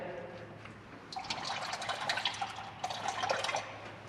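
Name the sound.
coolant draining and dripping from a car radiator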